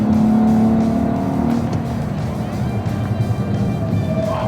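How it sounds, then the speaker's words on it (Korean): A car accelerates hard around a track during brake testing, with the brakes juddering from heavy use; a loud, continuous engine roar fills the whole stretch at close range, with no voices. "가속합니다."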